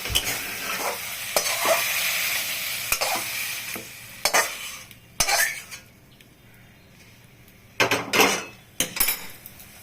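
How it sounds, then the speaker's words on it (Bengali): Prawns sizzle in hot oil in a kadai while a utensil stirs and scrapes against the pan in repeated sharp clanks, with no talking. "এখন আমি চিংড়ি মাছটাকে নামিয়ে নেব।"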